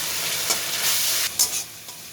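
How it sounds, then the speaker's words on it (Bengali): Spice paste seasoned with salt and turmeric sautéing in hot oil, a steady loud sizzle with a few stirring scrapes, no voices. "মিশিয়ে তেল ছাড়া পর্যন্ত কষাতে হবে।"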